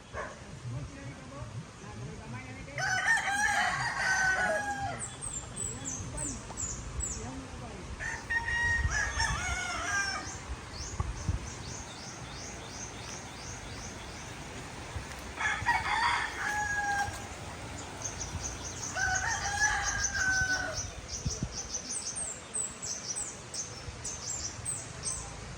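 Roosters crow several times at intervals amid a noisy outdoor background, with chickens clucking, a dog barking and people talking now and then.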